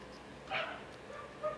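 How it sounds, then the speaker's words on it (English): Dogs barking outdoors at a distance, two short faint bursts of yips over a quiet background. "Hear those dogs?"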